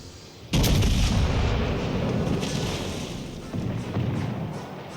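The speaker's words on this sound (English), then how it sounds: "we're shooting pretty much AP the whole time, but we are starting fires with some of these secondary batteries" Battleship secondary battery gunfire in World of Warships Legends, a sudden loud boom followed by sustained rumbling cannon fire and further dull thuds, without talk.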